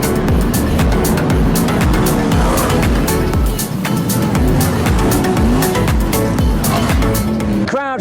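Race cars lapping an oval track at a club meeting, a loud continuous roar of several engines with repeated passing swells, tire squeal and skidding, and a faint voice underneath.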